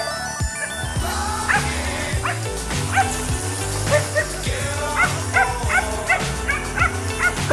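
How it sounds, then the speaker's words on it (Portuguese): Several dogs barking, yipping and whimpering as they play outdoors on a rural property, a continuous lively mix of close barks and high yelps. "Meus cachorros se divertindo"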